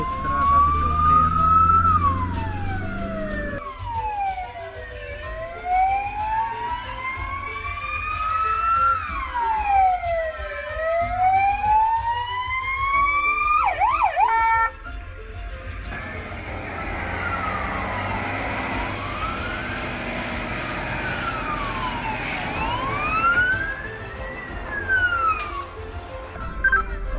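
Fire engine sirens wail from a Tatra 815 and a Peugeot Boxer responding to a school drill call, loud and close with rising-falling sweeps, a second siren overlapping later.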